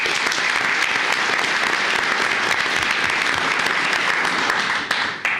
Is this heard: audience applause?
yes